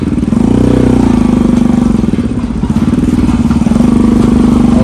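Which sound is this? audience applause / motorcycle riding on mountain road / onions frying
motorcycle riding on mountain road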